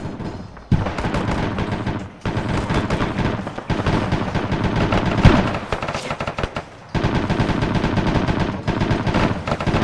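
Loud video-game gunfire pours out in sustained automatic bursts of rapid shots, broken by a few brief pauses, close and dominant, with no speech.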